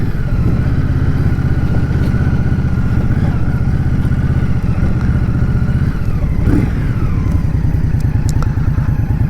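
A 2023 Indian Scout Rogue V-twin motorcycle rumbles loudly and continuously while being ridden, its low engine throb rising and falling with throttle changes and a brief shift midway, wind noise underneath.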